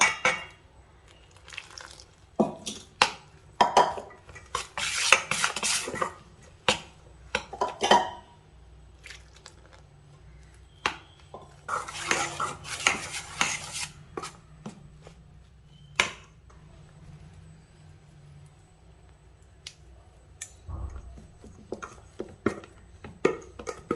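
Flour stirred with hot water in a pan makes irregular bursts of scraping, squishing and clattering against the pan, with quiet gaps between them.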